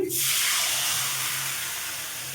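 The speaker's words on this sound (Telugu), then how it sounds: "ఇందులో ఒక టూ రెండు కప్పుల వరకు వాటర్ వేసేసుకోండి" Water hits a hot pan of roasted vermicelli with a sudden loud steaming hiss that stays broad and steady, slowly easing off, with no talk over it.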